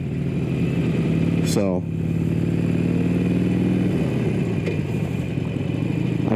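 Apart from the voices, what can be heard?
Harley Davidson motorcycle engine while riding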